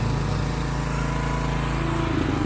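A John Deere riding lawn mower engine runs steadily and loudly nearby, a constant droning hum with no break and no talk over it.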